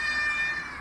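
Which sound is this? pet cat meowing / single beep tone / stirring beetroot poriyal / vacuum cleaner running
pet cat meowing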